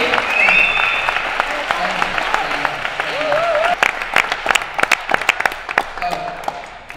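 At an awards ceremony, an audience applauds with mixed claps and whistles, some individual claps ringing out sharply near the end, while voices call and talk through the clapping.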